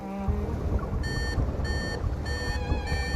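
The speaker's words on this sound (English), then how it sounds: "a shrill alarm blares from the control panel" A shrill control-panel alarm in a video game sounds in repeated bright, steady beeping bursts, loud and close, over a dense rumbling background with no talk.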